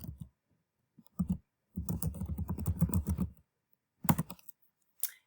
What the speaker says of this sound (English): let's type in animal cloning.